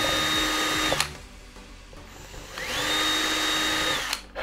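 An electric drill bores holes through a plastic cap in two loud, close whining bursts, each about a second or more long, separated by a brief pause.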